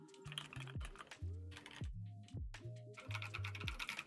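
Keys clatter on an HHKB computer keyboard, a close, steady flurry of typing clicks with short pauses between bursts.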